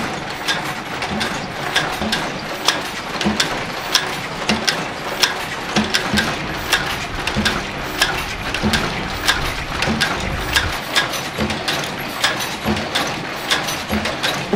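A computer-controlled knitting machine turns its needle cylinder, the side needles stepping in and out with a steady rattling, ratchet-like mechanical clatter, loud and close, with sharp clicks recurring throughout and no talk.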